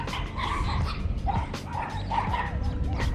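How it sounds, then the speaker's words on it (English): Many dogs barking, yipping and whimpering together on a fishing trip, with loud overlapping yelps close by throughout. "That is so many dogs, dude."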